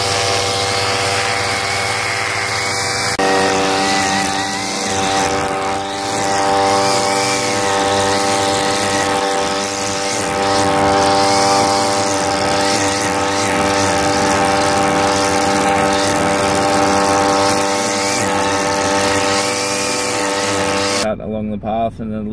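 A line trimmer (whipper snipper, weed eater) cutting along a path edge, its small engine holding a loud, steady high whine with strong tonal harmonics for about twenty seconds before cutting off abruptly.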